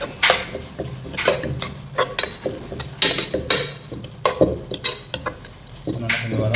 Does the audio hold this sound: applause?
no